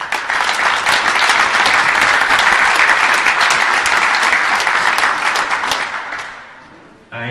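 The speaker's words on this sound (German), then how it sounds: "hier mal ein ganz, ganz kräftiger Applaus an die Firma HR Automationstechnik, Bauart, Kamui, Fight Billiard und viele," Loud, sustained applause from an audience at a billiards tournament, many hands clapping in a dense, even roar that holds for several seconds, then thins and fades out near the end.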